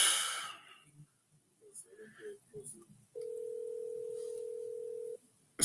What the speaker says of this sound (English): it just ringing without answer